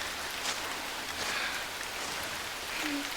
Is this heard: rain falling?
yes